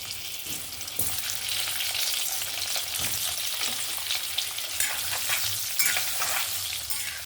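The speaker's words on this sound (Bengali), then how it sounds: "যতক্ষণ ওখানে আমার আলুটা ভাজা হচ্ছে" Small whole potatoes fry steadily in a hot pan for chicken curry, a constant crackling sizzle with occasional stirring knocks, no voices.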